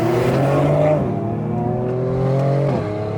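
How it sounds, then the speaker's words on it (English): Mercedes-AMG C43 heard from inside on a drive, its exhaust droning under load with rising engine tones that drop twice as the throttle lifts into overrun, a steady loud roar throughout with no talking. "Yeah, the overruns are lovely."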